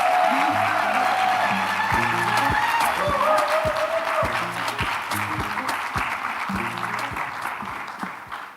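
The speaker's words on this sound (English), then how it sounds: "please cheer until he gets on stage" An audience at a data-innovation forum claps steadily as a panelist walks on stage, the dense applause running throughout over a looping bass-heavy walk-on music beat.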